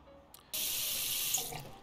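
A tap in the Cooking Simulator video game fills a pot with water. The steady hiss of running water starts abruptly after a faint click, stays loud and close, and eases slightly near the end.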